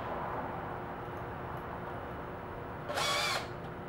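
A power drill whirs in one brief high burst near the end, driving a 2-inch screw into a room acoustic panel, with a steady room hum before it.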